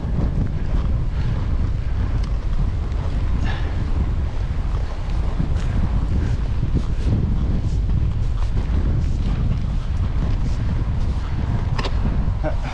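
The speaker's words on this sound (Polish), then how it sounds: "Jeszcze wieje wiatr." Strong wind buffets the microphone in a continuous, rough roar during a bikepacking ride on the North Coast 500, gusting unevenly throughout without letting up.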